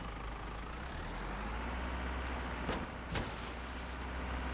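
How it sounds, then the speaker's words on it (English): A truck engine in the Storage Hunter Simulator video game runs at a steady, loud, low drone throughout, with two brief sharper bursts partway through and no talking. "Truck's a lot louder"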